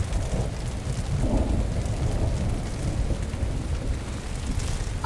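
Steady rain pours down during a thunderstorm, a dense even hiss with low rumbling swells of thunder beneath it, fairly close and continuous without any voices.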